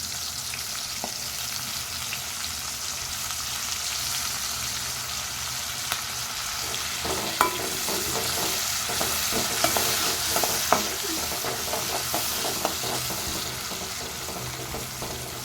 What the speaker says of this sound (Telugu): కొంచెం ఫ్రై అవ్వాలండి. ఆనియన్ ఫ్రై అయిందండి.